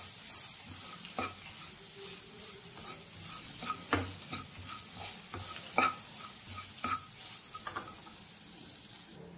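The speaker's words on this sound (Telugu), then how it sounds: "ఇంగువ కరివేపాకు వేసుకొని 2 నిమిషస్ సిమ్ లో కలిపెట్టుకోవాలి" Asafoetida and curry leaves sizzle in a pan for tomato rasam, a steady soft frying hiss broken by several clinking stirs of a spoon against the pan, close and fairly quiet with no voices.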